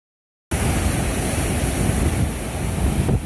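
Sea surf on the beach at Varadero, Cuba, heard at night as a steady, loud, broadband wash of waves. The surf continues without a break and no voices are heard.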